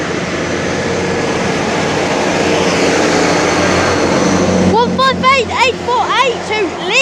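An unscheduled East Midlands Trains Class 222 diesel unit approaching platform 3 at Chesterfield station, a loud steady engine and rail roar building throughout, with whistling birdsong chirps joining near the end.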